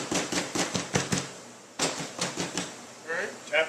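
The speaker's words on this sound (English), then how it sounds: "just take your hammer." A hammer taps down a raised part in a workshop, a quick run of sharp, close strikes followed by a second cluster, with someone talking over the tapping.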